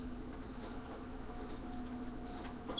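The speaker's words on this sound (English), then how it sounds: "I don't know if you can hear this like high-pitched chirping" A steady, high-pitched insect-like chirping buzz sounds faintly and continuously while Fallout 3 is being played, with a low constant hum underneath.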